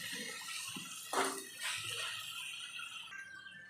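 Water pours into a pan of frying tomatoes, a brief splashing gush followed by a steady hissing sizzle that trails off, close and moderately loud with no talking.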